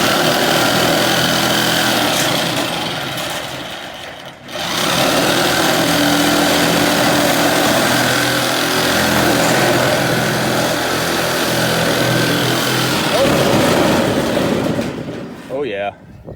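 Metal-cutting power tool runs loud and steady through R panel steel sheet, with a short break near the middle and a burst of high screech near the end; speech is present throughout.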